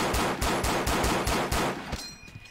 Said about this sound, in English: if I would spam fire this really quickly.